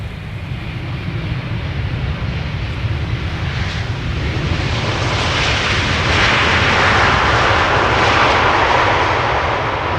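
A fixed-wing airliner landing at Amsterdam Schiphol Airport roars loud and steady from near range, its broadband engine rumble swelling slightly toward the end without a break.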